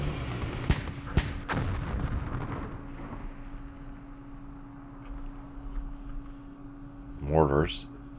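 Rounds of 60 mm mortar fire in the Campaign Series Middle East war game, with several sharp blasts early on, then a rumbling low background and a wavering whistle-like burst near the end. Faint speech runs underneath.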